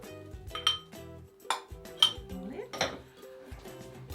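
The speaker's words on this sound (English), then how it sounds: "give them a stir around to get these all mixed together" Metal spoon stirring dark chocolate chips and halved cherries together in a bowl, giving a series of close, irregular clinks and scrapes with a few louder knocks against the bowl.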